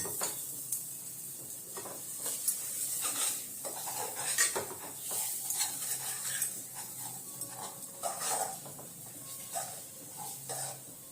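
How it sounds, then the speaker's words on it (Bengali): Food for a Bengali dhokar dalna being stirred in a pan, with repeated soft scrapes and clinks of a spoon against metal over a faint sizzle, low and close. "দিয়ে ভালো করে নাড়িয়ে নেব"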